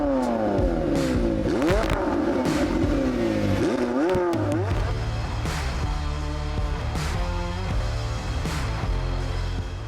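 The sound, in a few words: V8 sports car engine revving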